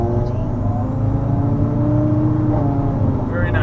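An Audi RS3 with a big turbo drives in sport mode with normal shifting, a steady engine hum and cabin drone throughout, rising slightly near the end, heard from inside the car.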